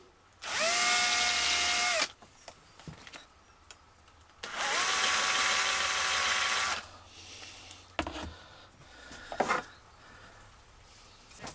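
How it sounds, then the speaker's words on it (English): A power drill whines in two bursts of about two seconds each as its tip marks into aluminium, separated by pauses with faint handling clicks and scraping. "I'm merely going to mark with the very tip of the drill just into the aluminium"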